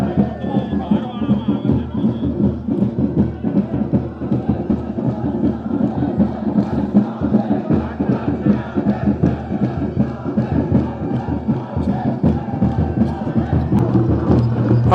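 Dense crowd of devotees chanting and cheering at Gaurikund as the doli of Baba Kedar arrives, a continuous roaring mass of voices with thumps and shouts throughout.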